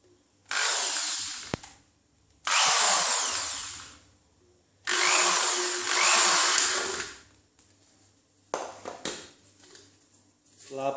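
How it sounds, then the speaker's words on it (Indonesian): A power drill with a 6 mm bit bores into a 2-inch pipe in several loud, close bursts of whining and grinding, each about two seconds long, separated by short pauses, with quieter handling sounds at the end. "Kemudian kita akan mengebor pipa 2 in ini dengan mata bor 6 mili"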